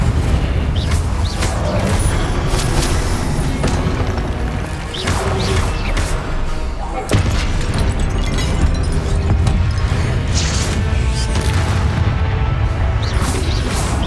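Incendio fire spell cast during combat in Hogwarts Legacy, in Percival Rackham's Trial: loud, dense booming blasts and crashing bursts that roll on almost without pause, with repeated sharp impacts over a thick rumble.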